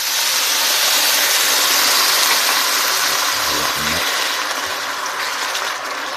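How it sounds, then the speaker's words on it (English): Wine poured into a hot pan of chicken and mushroom risotto rice, producing a loud, steady hiss and sizzle up close that eases slightly toward the end, with no voices. "I'm going to put my wine in now, so it just soaks up through and it burns the alcohol off"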